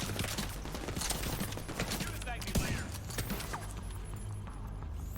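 Gunfire from the Division 2 shooter game, set in a Coney Island haunted house, with dense rapid shots and crackling impacts running throughout under a steady low game rumble while someone talks over it.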